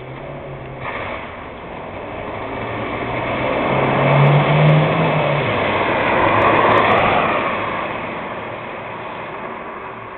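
A Citroen Xantia with a 385-horsepower turbo petrol engine drives past, a broad rushing engine roar that swells as it nears and fades slightly as it moves away.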